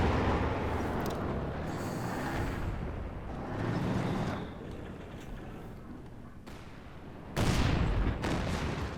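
HE artillery barrage in Company of Heroes 2, with a continuous rumble of heavy shell impacts and blasts, swelling and easing, and a sharp loud burst near the end.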